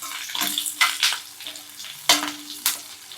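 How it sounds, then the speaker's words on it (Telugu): Green chillies and curry leaves fry in hot oil, giving a crackling sizzle with several sharp spluttering bursts as they are stirred, close and fairly loud with no talking. "ఈ పచ్చిమిరపకాయలు కూడా వేగి టేస్ట్ అనేది చాలా బాగుంటుందండి"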